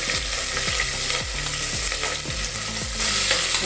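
Green chillies and cardamom fry in hot oil in a pan for a spicy mutton bone soup. A loud close sizzle runs under repeated rhythmic scraping strokes of a spoon against the pan, with no talking.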